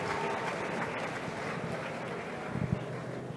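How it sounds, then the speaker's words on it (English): A hall audience at a faculty anniversary ceremony gives the singers a steady, moderately loud round of applause, an even wash of clapping that continues throughout with a few louder claps toward the end. "Please, a round of applause for them again."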